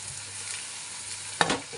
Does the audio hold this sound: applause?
no